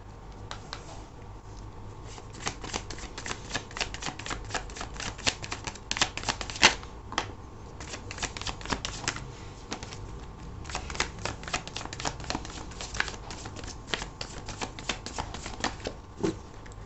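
Tarot cards being shuffled and handled in a steady stream of soft riffling and flicking, close and moderately quiet, with no talking.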